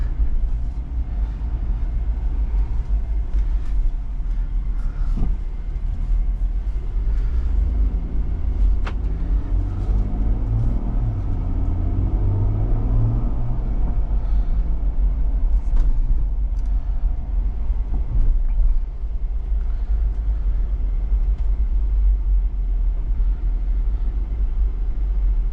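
A 2024 Ineos Grenadier Fieldmaster LWB on the move, heard from inside as a steady loud low rumble of engine and road noise with occasional knocks and clicks, no talking.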